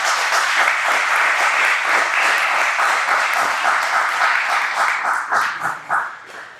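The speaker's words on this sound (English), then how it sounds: "So round of applause there." Audience applause at an athletic hall of fame ceremony, a loud sustained crowd clapping that holds steady for several seconds before tapering off in scattered claps.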